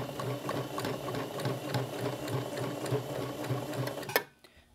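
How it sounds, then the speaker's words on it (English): A sewing machine stitching a polar fleece pet toy heart, a close steady mechanical whir with rhythmic needle ticks that stops abruptly near the end, with no talk. "you can always lift your presser foot and adjust slightly"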